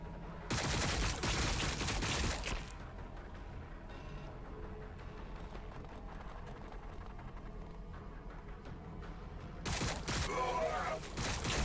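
Bursts of gunfire in the Warhammer 40,000: Battlesector battle game, a loud volley at the start and another near the end, with quieter battlefield rumble and brief speech between them.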